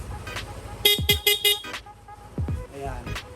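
A fully stock Yamaha Nmax 155 motorcycle horn honks in a quick series of four short bursts, loud and close, followed by a couple of fainter single beeps amid engine noise.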